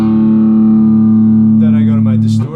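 Electric guitar through a distortion pedal on a pedalboard, with one loud, buzzy sustained chord that rings close and steady for about two seconds before choking off.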